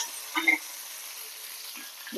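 Short, soft sizzling of chopped cashews and curry leaves frying in a pan, with a couple of faint stirring scrapes.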